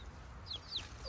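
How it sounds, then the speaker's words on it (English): A rooster kept in a backyard coop with other chickens gives a few short clucks and chirps over a low ambient rumble, fairly close and moderately loud, with no talking. "it looks like this is the only rooster we have right now"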